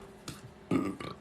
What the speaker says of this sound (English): if I'm burping a lot, that's a way that I release energy.